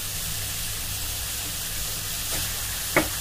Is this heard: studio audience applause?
no